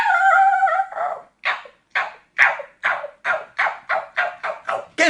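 A voice imitates a dog, with a drawn-out whine followed by a quick series of sharp, evenly spaced yips.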